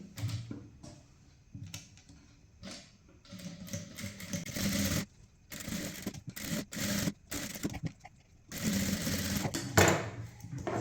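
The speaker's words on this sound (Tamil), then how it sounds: "இந்த ஒரு தையல் போட்டதுக்கு அப்புறமா இதுக்கு பக்கத்துலேயே ஒரு கால் இன்ச்சில் ஒரு இன்னொரு தையல் போட்டுக்கலாம்" A sewing machine stitches a blouse neckline in short stop-start bursts of close mechanical whirring, separated by quiet pauses.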